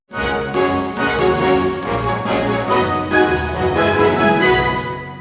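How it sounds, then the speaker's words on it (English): A full orchestra hits a series of loud, punchy chords with brass and strings together, forceful accented stabs ringing out with no speech. "to a full-blown orchestra sound like this"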